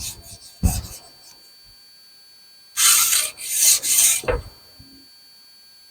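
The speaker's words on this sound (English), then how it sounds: "I'm going to go ahead and sand this down with the 320." Longbow finish being sanded by hand with 320-grit sandpaper, short raspy rubbing strokes: one quick pass, a pause, then a burst of several close scratchy strokes before quiet.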